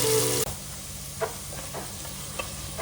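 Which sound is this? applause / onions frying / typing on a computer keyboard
onions frying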